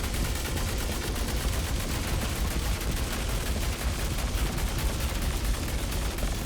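Fresnel Volt LMG energy machine gun in the video game Star Citizen firing in a sustained, dense automatic stream, loud and continuous throughout with no pauses and no talking.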